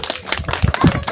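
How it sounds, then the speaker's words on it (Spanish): Sparse, uneven hand claps from a small audience at a Quechua huayno worship gathering, close and loud, with irregular bursts rather than a sustained roar. "Fuerte los aplausos."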